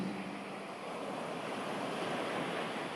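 Ocean surf rolling against a shoreline, a continuous broad wash of breaking water and wind, steady and moderately loud with no distinct individual crashes.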